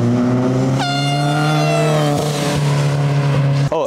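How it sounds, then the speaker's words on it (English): A small air horn fitted to a Subaru WRX track build blasts one long, loud, steady honk up close, lasting a few seconds before cutting off abruptly. "the little air horn that you see down there, because I didn't hook up the wiring for the horn"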